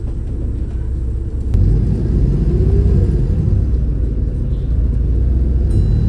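Inside a Wright Eclipse Urban B7RLE bus pulling away from a stop, a low diesel rumble swells after a brief knock and holds as a loud, steady drone through the cabin, with no voices.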